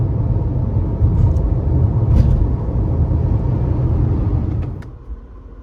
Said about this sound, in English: It wouldn't be a drive in the Red 124 without a first gear start.